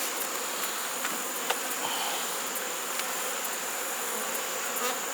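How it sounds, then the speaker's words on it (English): A honeybee colony buzzes in an open hive in an apiary, a dense, steady high hum of many bees with occasional faint clicks and taps, moderately quiet and without talk. "Plenty of bees for this colony."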